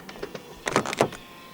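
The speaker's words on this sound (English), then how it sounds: "To lock the car, press the indented area on the driver's side door handle." A 2024 Neta X 500 Luxury locks through its driver's side door handle keyless entry, giving a short cluster of soft clicks and whirring actuator noises about a second long, close by and without talk.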